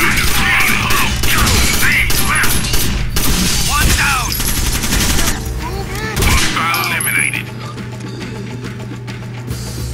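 Heavy gunfire from the video game Rainbow Six Vegas: dense automatic bursts and loud single shots fill the whole stretch, with crashing impacts and shouted voices mixed in under game music.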